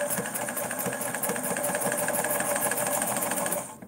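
A Morse 4400 sewing machine runs steadily while stitching fabric for masks, a close, even mechanical whir with rapid needle ticking that holds for several seconds before winding down.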